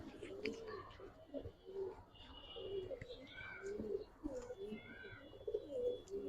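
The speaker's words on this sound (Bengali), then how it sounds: "অরিজিনাল ইন্ডিয়ান কবুতর ভাই দেখেন" Indian pigeons at a seller's, including chocolate-coloured birds, coo steadily in overlapping low rolling calls, close and moderate, with faint chirps and a bit of background murmur.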